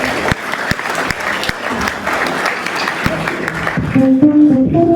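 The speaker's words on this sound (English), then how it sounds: "Hand of applause." Audience applause at an award ceremony marking an Independence anniversary, sustained clapping from a room of people with a few sharp individual claps, joined near the end by a sung or musical tone over the crowd.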